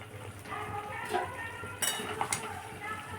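Potatoes being stirred in a cooking pot, soft scraping with a couple of sharper metallic clinks of utensil against the pot over a low kitchen background, fairly quiet and close.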